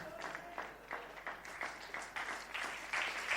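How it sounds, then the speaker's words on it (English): Audience at a district officers luncheon in Nigeria claps in a brief burst of applause, heard fairly faintly with uneven rhythm and growing slightly toward the end. "Let's clap for ourselves now."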